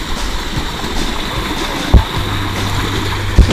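Water pours steadily down a jungle waterfall on a sloping rock trail, a continuous broadband rush with a couple of brief knocks and a low hum, no voices.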